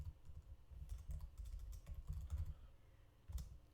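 Computer keyboard typing VBA code, a soft, quick patter of keystrokes in irregular bursts with short pauses, close but quiet.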